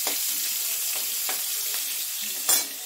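Prawns frying in oil in a pan give a steady, bright sizzle with a few soft scrapes and stirs, one sharper clatter near the end, and no voices.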